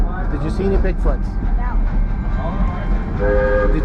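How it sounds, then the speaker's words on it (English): A Georgetown Loop Railroad train passes with a continuous low rumble and squealing, tonal wheel or brake sounds, while people talk nearby. "Oh, another train."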